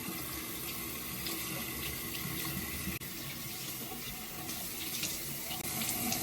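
Tap water runs steadily from a faucet onto a Moroccan hammam exfoliating mitt, a close, continuous splashing hiss with no break.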